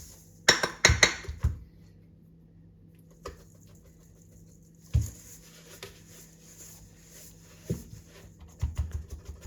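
Biscuit ingredients stirred together in a bowl, giving sharp clinks and scrapes of utensil against the bowl in short bursts separated by quiet gaps.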